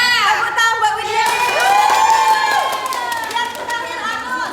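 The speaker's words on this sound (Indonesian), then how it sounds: "Tepuk tangan buat Widya" Classroom applause for a student during a lesson on the digestive system: a burst of mixed clapping and cheering from many children, loud and close, with excited young voices overlapping throughout.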